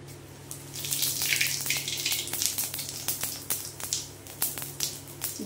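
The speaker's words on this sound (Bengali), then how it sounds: "আমার তেল সম পরিমাণে গরম হয়ে গেছে। এইবারে আমি এতে ফোড়ন দেব শাহজিরে" Shahi jeera hits hot oil in a pan, giving a steady crackling sizzle with scattered pops and spits that continue throughout, close and moderately loud.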